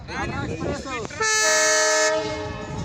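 An express train engine on a speed trial run sounds a long, loud, steady horn blast close by. Voices talk over rumbling before the horn and again after it stops.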